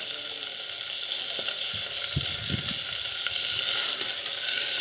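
Tomatoes frying in a pan with softened onions, a continuous hissing sizzle with a few low knocks and stirring bumps partway through.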